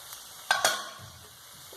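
A spoon scrapes twice through Kerala-style pineapple thoran stir fry in a pan, two sharp strokes close together followed by a low, quiet sizzle.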